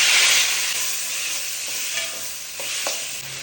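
Onion, tomato and garlic fry in a pan for a Tamil paruppu kulambu, giving a loud, steady broadband sizzle with a few faint clinks of stirring, close up and without talk.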